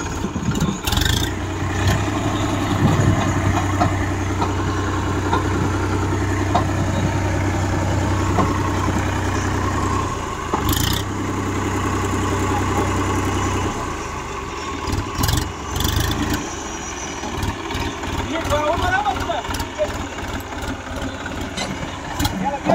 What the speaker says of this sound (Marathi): आपल्यासमोर आहे अपमाची फर्ग्युसनचं 50 HP ट्रॅक्टर आहे